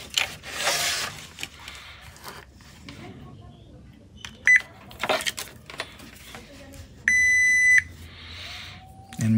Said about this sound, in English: I will use my trusty multimeter in continuity mode.